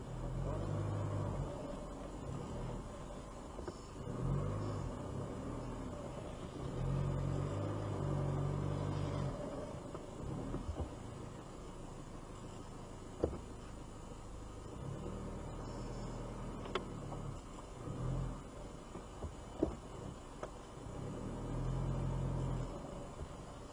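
A car creeps slowly along a track, its engine a low, steady rumble that swells and fades in waves, with someone talking over it and occasional faint clicks.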